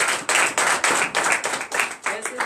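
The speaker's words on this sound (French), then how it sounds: "Donnez l'acclamation à Jésus." Rhythmic group clapping close by at a morning church prayer service in Comè, Benin, about ten strong claps in a steady beat.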